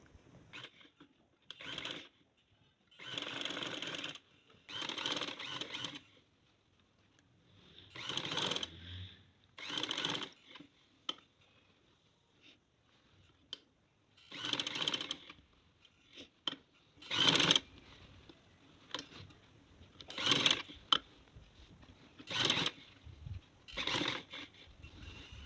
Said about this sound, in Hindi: चलिए सिलाई लगाना शुरू करते हैं।